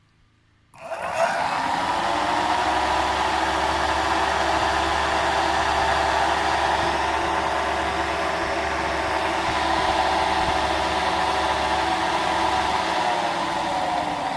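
A DC motor driving a brushless 3-phase 24-volt AC generator spins up abruptly and settles into a loud, steady whirring hum with a constant tonal whine, running on alone without talk.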